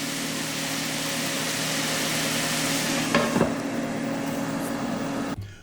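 Red cabbage braises in a pan with a steady, close sizzle and frying hiss, a brief stir or clatter partway through, ending abruptly as the sound cuts off.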